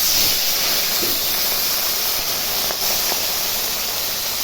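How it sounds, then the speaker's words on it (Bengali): Fish being fried in hot oil, a steady broadband sizzle and hiss filling the space, continuous and fairly loud, with faint brief pops. "দেখো মাছ ভাজার জন্য আমার তেল গরম হয়ে গেছে, এখন মাছগুলো ছেড়ে দিব।"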